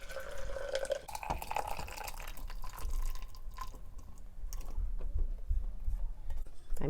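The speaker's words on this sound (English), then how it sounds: "We're going to carefully pour this into a blender." Hot dairy-free cauliflower cheese sauce is poured into a NutriBullet blender, giving quiet, close liquid pouring with dripping and splashing and a few faint knocks from the container.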